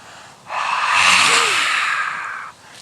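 A long, forceful open-mouthed yoga lion-breath exhale with tongue out, a raspy, roaring hiss sustained for about two seconds, close up with no talking.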